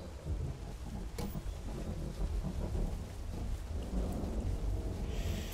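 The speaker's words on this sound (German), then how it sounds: "Das ist schon richtig cool gerade mit dem Nebel und dem Regen." Rain pours steadily in a foggy scene in the video game The Isle, a dense, loud wash of drops with a low rumble of thunder rolling underneath throughout.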